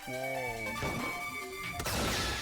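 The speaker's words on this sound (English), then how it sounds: "It sounded like something heavy fell down and hit the floor really hard." A heavy crash of something falling hard onto the floor in the Danganronpa V3 video game, one loud impact under a sustained game-music tone.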